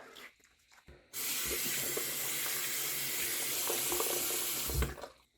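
A bathroom sink tap runs steadily at a strong, close flow for about four seconds, starting abruptly and stopping near the end, with a few faint handling knocks beforehand while someone washes their face.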